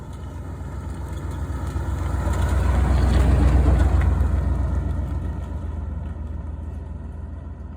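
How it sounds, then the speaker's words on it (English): A 1987 Chevy C/K Custom Deluxe pickup engine idling as the truck rolls along at low speed on an island road, a steady low drone that swells in the middle and fades again, with no speech. "this engine is basically just idling right now, and we're at 20 miles an hour."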